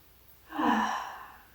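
A single deep exhaled breath during a warm-up and leg stretch, a close breathy sigh that swells and then trails off over about a second.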